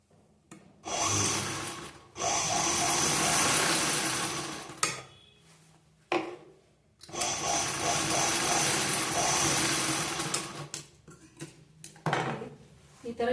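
A sewing machine stitching a blouse without lining runs in two long loud bursts of steady whirring, separated by short pauses with small handling clunks.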